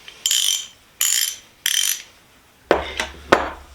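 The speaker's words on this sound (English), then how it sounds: "We've got the ratchet," Half-inch drive ratchet from a Crowder socket set clicking in short bursts, three spaced ratcheting sweeps followed by quicker clicks, close and crisp with no talk.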